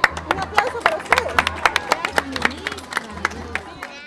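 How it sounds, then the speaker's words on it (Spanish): A group of students at a school learning fair in Tarapoto applauds, with uneven, sharp claps close by and some children's chatter and voices mixed in over the steady clapping. "Un aplauso para ustedes"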